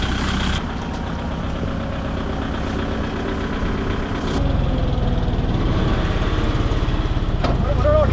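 A tractor engine labours to pull a stuck vehicle out of mud, a steady loud diesel drone running throughout that grows heavier and louder partway through as the load is taken up.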